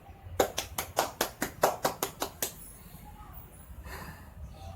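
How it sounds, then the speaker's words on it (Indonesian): A small classroom group claps for a student group in a short, quick burst of about ten distinct, sharp hand claps that ends abruptly, followed by quiet room noise and faint chatter. "Beri tepuk tangan untuk kelompok 1."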